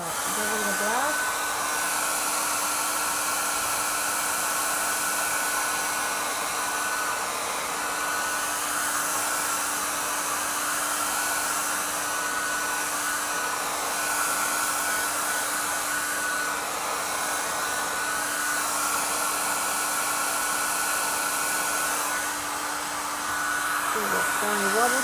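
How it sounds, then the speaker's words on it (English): Hair dryer blowing on acrylic paint, a steady close whirring hum with airy rush that runs unbroken for the full stretch, with a faint voice now and then. "I'm just going to dry everything so I don't risk smudging anything"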